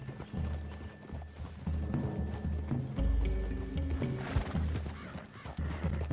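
Horses' hooves plodding along a wooded trail in the western game Red Dead Redemption 2, a steady clip-clop under ambient game music and low rumbling.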